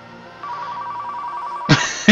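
An in-game telephone rings in Car Mechanic Simulator 2015, a steady electronic trill that sounds for over a second before two louder, sharper bursts of ringing near the end, with no talk over it.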